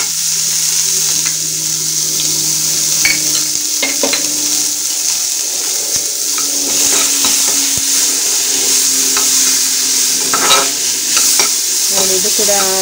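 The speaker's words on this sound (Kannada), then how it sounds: "ಈಗ ನೋಡಿ, ಇದಕ್ಕೆ ಸಣ್ಣದಾಗಿ ಹೆಚ್ಚಿಕೊಂಡಿರುವಂತಹ ಈರುಳ್ಳಿಯನ್ನು ಹಾಕ್ಕೊಳ್ತಾ ಇದ್ದೇನೆ." Finely chopped onions frying in hot ghee, a loud continuous sizzle close by with spoon scrapes and knocks against the pan throughout.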